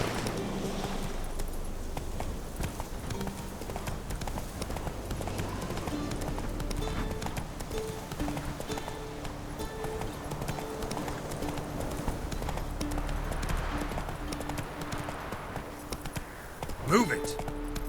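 Horse hooves clip-clop steadily through a gallop in The Witcher 3, a continuous rhythmic pounding mixed with game ambience and a brief louder thump near the end.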